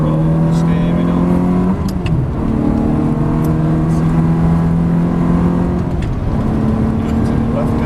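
A Ferrari 360 or Porsche 996 Turbo brakes and corners on a track. A loud engine drone is heard from inside the car over road roar, and its pitch drops sharply twice as it slows and shifts down.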